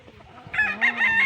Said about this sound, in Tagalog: Mga manok niya na galing ibang bansa.